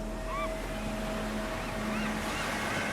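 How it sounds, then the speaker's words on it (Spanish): Cold North Atlantic waves crash against dark basalt cliffs, a steady broad roar of surf under wind, with faint tonal hums drifting through. "Las bravas y gélidas aguas del Atlántico Norte golpean con violencia las oscuras piedras basálticas que componen estos imponentes acantilados"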